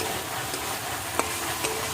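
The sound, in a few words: frying ridge gourd and potatoes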